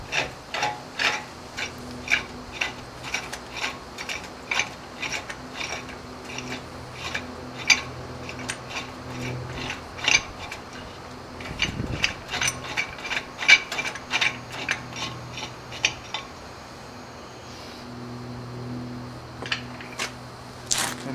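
Repeated ratchet clicks from a socket wrench loosening the hub assembly on a 1995 Ford F-250 4x4, with quick bursts of clicking at close range, some louder metallic ticks, and a brief pause near the end.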